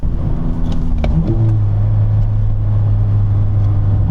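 A car engine runs with a steady, loud low rumble throughout, with a brief rise in pitch early on and no voices.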